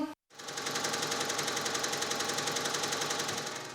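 Sewing machine in a small clothing workshop, running fast and steady after a brief pause, with an even, rapid mechanical rattle close to the microphone.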